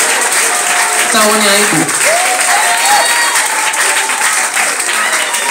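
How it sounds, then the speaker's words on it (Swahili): Loud, steady applause fills a church testimony gathering, a dense wash of clapping from a crowd that carries on throughout with voices and a short spoken phrase mixed into it. "piga makofi"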